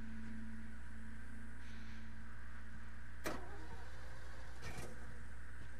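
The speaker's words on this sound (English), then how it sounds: "I'm hearing a truck." A truck engine in The Last of Us video game gives a steady low rumbling hum that stays at an even level, with a couple of sharp clicks cutting across it.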